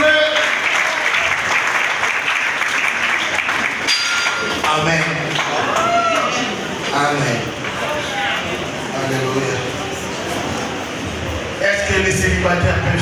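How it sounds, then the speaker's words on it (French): A wedding audience claps loudly and steadily with comedians present, the applause running throughout while a voice talks over it. "Est-ce qu'on peut applaudir très très fort s'il vous plaît?"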